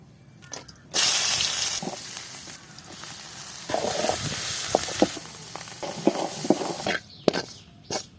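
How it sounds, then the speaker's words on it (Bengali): Small dori fish are dropped into hot oil for a mash, bursting into a loud sudden sizzle that settles into an uneven crackling fry with scattered pops and clinks, close by. "এখন আমরা দড়িগুলারে ভর্তা করার লাগে তেলে ভাজতে নেব"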